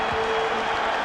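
A Boston Garden crowd at an NBA game between the Celtics and the Mavericks roars in a loud, dense, sustained wall of cheering that fills the whole moment.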